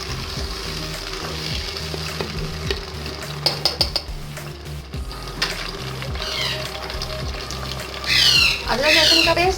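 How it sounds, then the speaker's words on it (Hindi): Tomatoes are stirred into frying onions in a metal pan, with a steady run of scraping, clattering spoon-on-pan strokes over a sizzling background. A loud squeaky scrape comes near the end. "शामिल करूंगी इसमें मैं टमाटर और इसको अच्छी तरह से मिक्स कर लूंगी"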